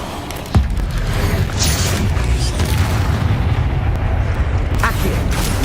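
A Bombarda spell explosion in Hogwarts Legacy sets off a sharp boom, followed by a rumbling wash of game battle noise and debris with no talk over it.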